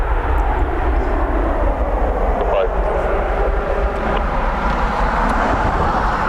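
United Airlines airliner at Dublin Airport, a loud continuous jet engine roar filling the whole stretch, steady and close with broad rumbling noise and faint voices beneath.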